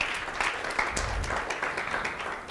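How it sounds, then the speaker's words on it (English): An audience at a university library book club launch claps hands together, a steady wash of applause lasting the whole moment at moderate loudness. "Let's clap hands for her once again."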